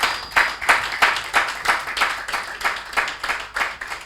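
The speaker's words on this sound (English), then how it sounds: "Please, can you give yourselves a round of applause?" A small audience claps at the close of a moderated conversation event. About a dozen distinct, evenly spaced claps sound close and moderately loud, with no talking.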